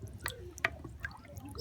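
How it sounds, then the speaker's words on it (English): Water splashes and drips as a mortar is rinsed out while cooking Ghanaian tuo zaafi with peanut butter okra soup, giving a few soft, close drips and squishy splashes over quiet background. "So I'm just rinsing off the mortar with some water again"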